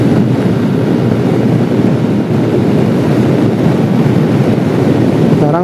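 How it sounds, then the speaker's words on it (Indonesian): Strong wind battering the microphone on a main road from Probolinggo, a loud continuous roar of rumbling gusts with no break, drowning out everything else. "Anginnya lumayan kenceng ini."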